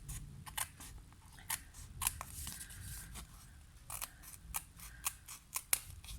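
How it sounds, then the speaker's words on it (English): Small precision snips cut paper for card crafting in a series of crisp, close snips at an irregular rhythm, some in quick pairs, with quiet paper rustling between them. "using my little precision snips"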